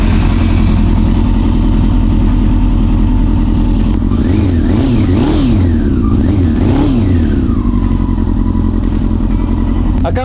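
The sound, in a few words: 2002 motorcycle engine starting and revving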